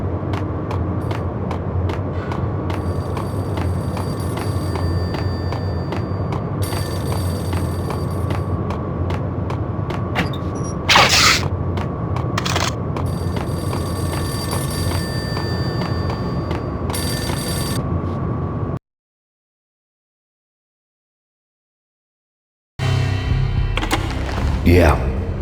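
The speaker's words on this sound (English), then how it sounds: "payphone started to ring." Payphone in the Max Payne video game rings with repeated bell-like bursts over a steady ambient hum, cutting out to a gap of silence before game sounds resume.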